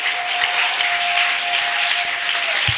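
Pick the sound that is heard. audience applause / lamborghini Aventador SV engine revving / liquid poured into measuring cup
audience applause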